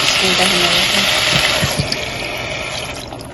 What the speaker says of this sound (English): Then add water.